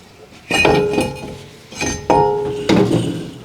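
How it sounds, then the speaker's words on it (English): Metal clanks and ringing knocks as a brake rotor is worked off a Dodge Ram. Three sharp impacts each trail off in a metallic ring, close by, with no talking. "Remove the brake rotor."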